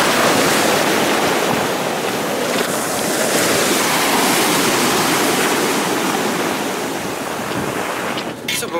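Sea waves wash continuously onto a beach at Sochi, a loud, broad surf roar mixed with wind buffeting the microphone. The sound holds steady all the way through.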